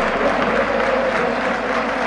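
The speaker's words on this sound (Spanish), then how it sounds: "El aplauso para el jugador de más categoría que tiene la Primera B Nacional." Steady, dense applause from a large stadium crowd at a Quilmes football match, sustained at an even level throughout with a broad wash of clapping.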